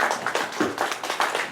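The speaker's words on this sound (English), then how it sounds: "Give her a round of applause" A live-stream audience gives Mother Glass a round of applause: a brief, dense burst of clapping from several people nearby, steady and fairly loud, with no speech over it.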